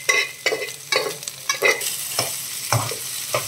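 Garlic and mutton keema sizzle in a pan while a spatula scrapes and stirs in a steady rhythm of about seven strokes, close and clear, with no talking.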